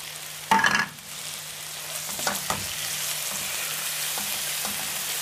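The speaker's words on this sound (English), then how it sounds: "My onions are starting to brown. I'm now going to put in tomatoes." Tomatoes hit a pan of browning onions, garlic and ginger with a sudden loud burst of sizzling, then the frying settles into a steady hiss punctuated by a few clinks of stirring.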